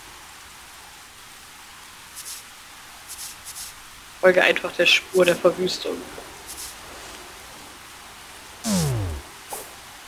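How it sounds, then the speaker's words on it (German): Rain falling in the video game Starbound, a steady soft hiss running through the whole stretch, with a person talking briefly over it and a few short game effects and a falling swoosh near the end. "Es fängt an zu regnen."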